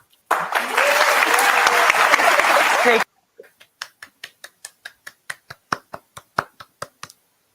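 Audience applause for three guests on a talk show about throuple relationships, a dense burst of clapping for about three seconds, then a single person clapping slowly and alone in steady, spaced claps.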